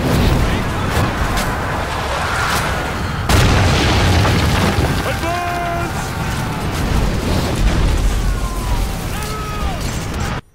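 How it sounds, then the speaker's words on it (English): Loud, continuous rumbling blasts and booms from explosions in the game Ryse on Xbox One, with a sharp burst around three seconds and whistling, chirping tones layered over the roar. "some amazing explosions, you have one of the best looking games to ever touch a console"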